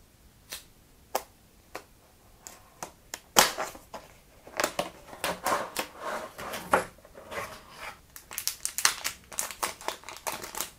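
A clear plastic seal crinkles in sharp, irregular bursts during the unboxing of an Asus ROG Chakram Core gaming mouse, sparse snaps at first, then denser rustling clusters, close and fairly loud with no talking.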